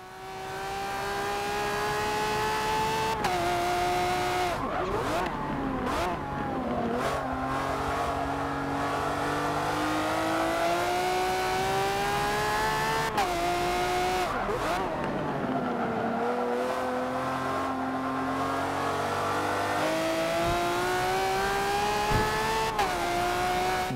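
Lamborghini Reventon racing engine in Forza 7, a loud continuous high-pitched whine rising through the gears, with sharp dips at gear changes and a stretch of braking and downshifting, heard up close.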